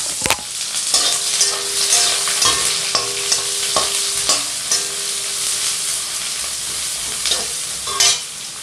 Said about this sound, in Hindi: अब इसमें हम अपने प्याज डाल देंगे और इन्हें लाल होने तक